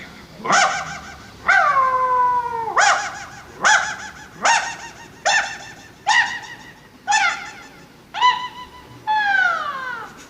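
A mimicry artist performing at a university arts festival competition in Kerala uses his voice to imitate a dog barking, giving about ten loud, close yelping barks in a steady rhythm with short pauses between them.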